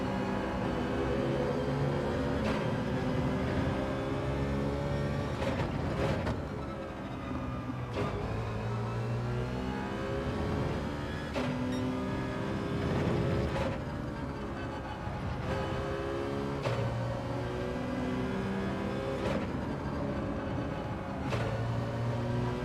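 A race car engine in Gran Turismo 7 during a daily online race, a continuous loud droning roar that rises and falls through gear changes and corners across the whole stretch.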